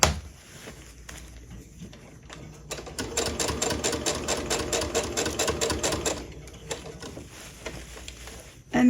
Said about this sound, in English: I'll start sewing, and I will do a back stitch